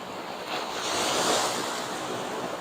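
Ocean waves wash onto a long open beach in a steady, loud roar of surf that swells and eases, mixed with wind buffeting the microphone and no voices.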